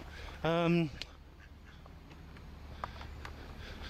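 Ducks by the water near a bridge on Botley Road give one loud, close, harsh quack lasting about half a second, followed by quieter outdoor ambience with faint distant sounds.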